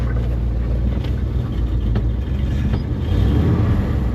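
A cold 1980 Dodge Power Wagon with Holley Sniper EFI, running a little rough, drives along with a steady, loud low engine rumble and road and wind noise throughout.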